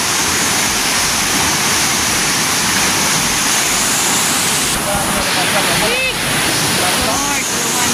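Strong floodwater rushes through the Piñan River in a loud, continuous roar, with a brief voice and some whistle-like tones surfacing partway through.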